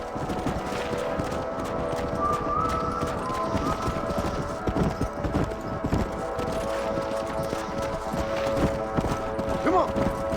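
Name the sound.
horses galloping in Red Dead Redemption video game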